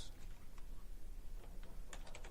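Rapid keystrokes on a computer keyboard as a virtual machine name is typed during an Ubuntu setup, a short burst of close, clicky taps followed by a quick cluster of presses near the end.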